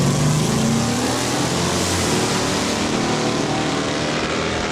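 Mopar drag racing cars at Saskatchewan International Raceway in Saskatoon roar down the strip, a continuous loud engine drone with rising harmonic tones as they accelerate, heard from trackside without pause.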